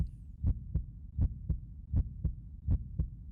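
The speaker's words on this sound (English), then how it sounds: "where I could only hear my heartbeat" Heartbeat from the PlayStation racing RPG Racing Lagoon, a muffled low thumping in evenly spaced lub-dub pairs, about four beats over a few seconds, quiet and isolated against near silence.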